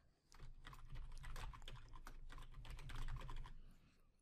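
Close, quiet typing on a computer keyboard while filling in user account fields, a rapid patter of key clicks that runs for a few seconds and then stops.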